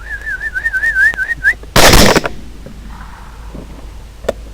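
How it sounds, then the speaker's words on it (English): A hunter's wavering whistle to make a boar raise its head, then a single loud, sharp rifle shot that cracks and echoes briefly outdoors on a hog hunt. "I'm going to whistle, and when he raises his head, shoot."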